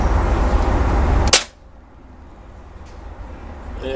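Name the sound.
Beeman 1357 air pistol shot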